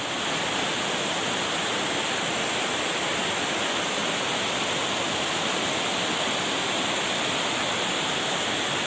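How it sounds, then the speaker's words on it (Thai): A strong river current rushes steadily at night during a catfish fishing trip, a loud continuous broadband roar of flowing water with no pauses and no talk. "น้ำมันแรงนะครับเพื่อนน้ำแรงมาก"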